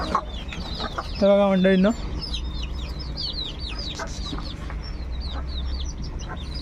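Chickens at a poultry farm cluck and chirp constantly, with one loud crowing call standing out near the start, close and busy, while someone briefly speaks over the flock.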